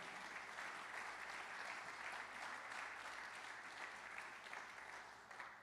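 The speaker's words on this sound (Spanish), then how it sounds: "Denle un aplauso al Padre" Sustained, dense applause from a church congregation during a Spanish-language service, a steady wash of many hands clapping together at moderate distance, with no talking.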